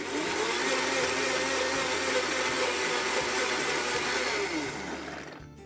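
A blender runs loud and steady as it mixes Caesar salad dressing made with lemon juice, salt and pepper, then winds down in the last second.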